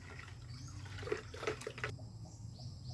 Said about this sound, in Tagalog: Haluin mo natin mabuti mga bay, no? Kasi yung powder para matunaw talaga mabuti bago natin ilagay dun sa